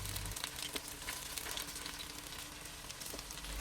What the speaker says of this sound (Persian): پشت و رو و دور تا دور کوفته ها رو کاملا سرخ کنید